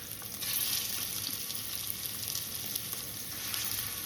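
Meatballs sizzle and fry steadily in a hot pan, a dense, continuous crackle close up with no talking over it.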